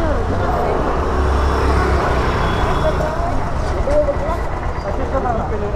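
Steady road traffic noise from passing cars and buses, a continuous broadband roar heard close by with no pauses throughout.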